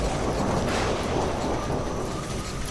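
A fierce thunderstorm sound effect, with wind and rain, plays in a Hindi story as a continuous, heavy, low rumbling wash of noise that stays loud from start to finish.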